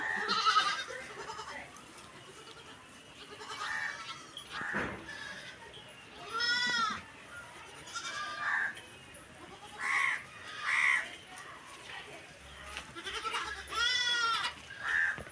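Goats bleat again and again, close by, with short pauses between the calls. Some cries are higher and sharper, like young kids.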